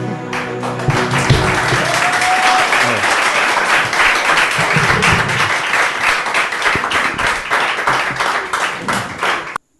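A large crowd applauds steadily and loudly with scattered cheers, the dense clapping continuing without pause before stopping abruptly.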